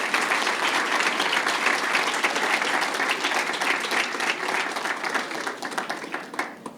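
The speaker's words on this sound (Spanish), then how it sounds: "para quien pido un fuerte aplauso si nos lo permiten" Audience applause at a lecture on Mexican history, dense sustained clapping from a large indoor crowd that holds steady and then thins toward the end.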